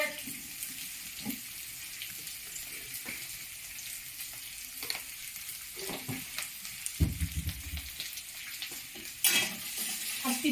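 Capsicum, chopped ginger, bay leaf, peanuts and sugar frying together in a pan for chicken pulao, a steady sizzle with frequent spatula scrapes and clatters, louder stirring toward the end.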